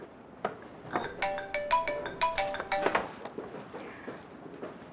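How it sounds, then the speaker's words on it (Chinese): A telephone plays a melodic ringtone in a shop, a bright repeating chime pattern rising over quiet background clinks, moderately close and without talk. "不好意思， 我接个电话。"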